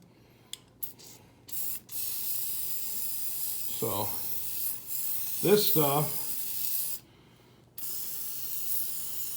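An aerosol can sprays Kroil penetrating oil onto a seized part of a Case VAC tractor in several short hissing bursts, close and sharp, with someone talking between the sprays.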